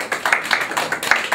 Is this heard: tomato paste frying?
no